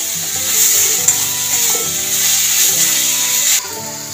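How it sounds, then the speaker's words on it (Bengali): Grated beetroot sizzles and fries steadily in a pan, with stirring and scraping against the pan throughout. A close, continuous hiss with no talk. "বেশ কিছুক্ষণ ধরে ফ্রেন্ড নাড়াচাড়া দিয়ে ভেজে নিয়েছি"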